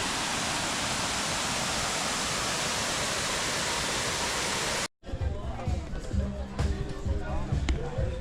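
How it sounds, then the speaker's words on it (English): A famous waterfall on Siquijor island in the Philippines roars as a loud, dense, unbroken wash of water for about five seconds, then cuts abruptly to a quieter scene with voices and softer water. "we make it to one of the most famous waterfall on Siquijor"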